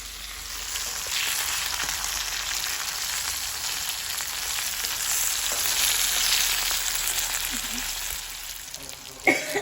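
Green chillies, with coriander seeds added, fry in a pan in a loud, continuous hiss of sizzling oil, stirred occasionally. A couple of sharp clatters come at the end.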